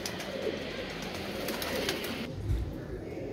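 Soft pigeon cooing in a noisy outdoor setting, low murmuring calls repeating over steady background hum, fairly close.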